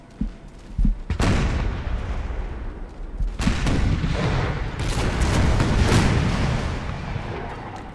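A volley of cannon fire in the Empire Total War video game, with several sharp booms and then dense rolling artillery blasts that merge into a sustained, loud battlefield roar with no talk.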